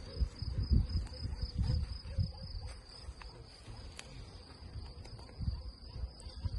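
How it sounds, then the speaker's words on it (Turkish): A low, steady hum of buzzing honeybees with a faint high-pitched whine above it, continuing throughout at moderate volume. "Besleme yapılan bir arı"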